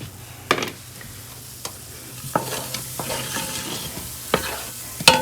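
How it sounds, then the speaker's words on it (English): Onions sautéing in melted butter in a cooker, with a few sharp spoon scrapes and knocks over a low, steady sizzle; close and fairly quiet, no talking. "I'm going to saute some onions with the butter"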